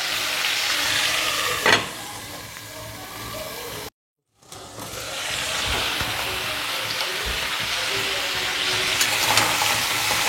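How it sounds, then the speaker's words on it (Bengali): Crab sizzles and fries in oil inside a covered pan, a continuous crackling hiss with a brief clatter near the start, a short drop to silence, then steady frying again. "একটু ভাজা ভাজা হবে, তারপরে নামাবো"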